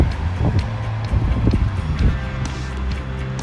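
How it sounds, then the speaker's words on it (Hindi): Strong wind blowing outdoors past an open window of a flat on a sunny day, a steady broadband rush with gusty low rumbles and buffeting, fairly loud and continuous with no talking. "काफ़ी ज़्यादा हवा चल रही है। If you can here the noise कि कितनी मज़े की हवा है"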